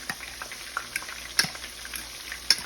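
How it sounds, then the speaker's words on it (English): Chicken fries in a little oil, crackling and popping softly, with scattered sharp spits over a low, steady sizzle and no voices. "I'm just frying it a little oil because that's just me"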